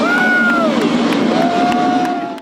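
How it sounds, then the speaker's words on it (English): A crowd cheers and shouts as a KC-46A Pegasus tanker flies by on its first flight, loud and close, with whoops and a brief whistle rising over the outdoor noise. "As the aircraft flew by for the first time, the crowd on hand could not stifle their joy."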